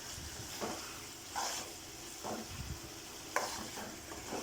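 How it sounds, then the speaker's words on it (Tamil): Chicken gravy bubbling in oil over a medium flame, with soft sizzling and occasional stirring scrapes recurring every second or so, fairly quiet and close, no talking. "நான் மீடியம் ஃப்ளேம்லேயே வச்சு இதை வேக வச்சுக்கிட்டே இருக்கேன்"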